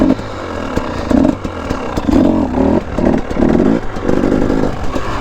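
A dirt bike engine revs hard in repeated bursts close by on open private land. Each throttle blip climbs and falls with a rough, throaty growl and some mechanical clatter, and no voices are heard.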